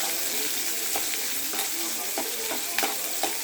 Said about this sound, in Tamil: அடுப்பில் ஒரு கடாயை வச்சு தாளிப்பு ரெடி பண்ணிடலாம்.